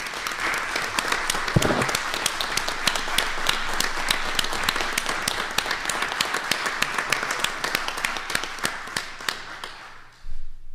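Applause fills a council meeting room as the audience claps steadily and densely for about ten seconds, with a thump near the start, before the clapping fades out and stops.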